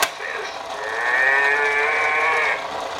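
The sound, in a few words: baby imitating a cow mooing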